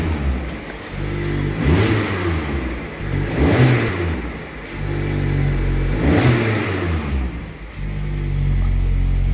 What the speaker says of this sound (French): je veux pas trop accélérer comme ça, avec la voiture froide, mais juste un peu pour voir